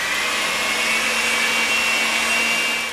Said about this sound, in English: Start your mixer low so that the cocoa powder doesn't,